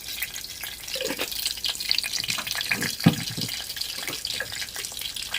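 Mustard seeds hit hot oil for a dal tempering, giving a close, busy sizzle with irregular crackles and pops over a continuous frying hiss, no voices.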